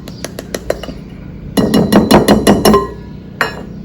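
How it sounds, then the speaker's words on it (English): A measuring cup is tapped and scraped against the side of a bowl to level off flour, a series of sharp close clinks and knocks coming in quick bursts with short pauses between. "I just rub my cup along the side and you pretty much get a flat one"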